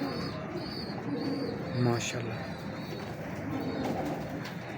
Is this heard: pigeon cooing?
yes